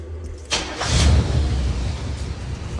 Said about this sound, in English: when I'm going, pushing the gas, you hear a little tap, like tip, tip, tip, tip. So it's still got an exhaust leak.